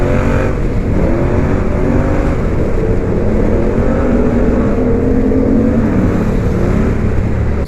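Loud, continuous scooter engine drone with a sustained revving pitch, echoing and booming inside a tunnel.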